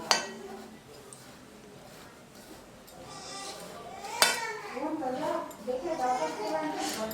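Roasted ingredients being mixed in a warm pan, with clinks and scrapes of a spoon against the metal sounding close, the stirring growing busier toward the end while a person talks over it.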